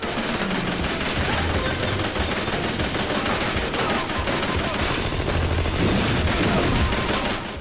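Rapid gunfire and bullet barrages from the video game Wolf of the Battlefield: Commando 3, dense and continuous bursts with explosions layered in a busy game mix.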